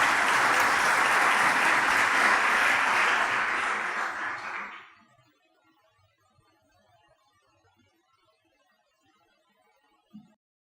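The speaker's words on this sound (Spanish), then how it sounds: "lo recibimos con un fuerte aplauso" Audience applause welcoming a speaker at a 2014 business meeting, a loud sustained burst of clapping from a crowd for about four seconds that fades out into near silence.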